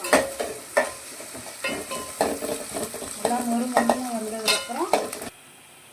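Curry leaves and aromatics sauté in a pan for a Tamil fish curry, with a soft sizzle under repeated loud spoon scrapes and clinks; someone briefly speaks near the end.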